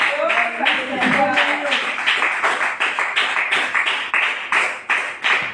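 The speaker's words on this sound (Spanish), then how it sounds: "Denle un aplauso al Señor." A church congregation claps along in a steady, even rhythm, each clap sharp and close together, with voices briefly audible underneath at the start.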